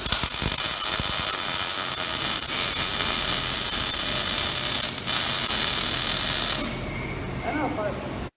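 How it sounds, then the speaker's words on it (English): A steel hinge is welded onto square steel rod legs for a crab table, producing a loud continuous crackling hiss that runs unbroken apart from a brief dip, then stops near the end. "Okay, welding."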